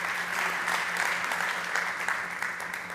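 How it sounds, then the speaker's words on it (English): Audience at a startup pitch competition stage gives sustained applause, a steady wash of many hands clapping at moderate volume with a few cheers and voices mixed in. "Give it a big round of applause for Nearby and Javier Luz."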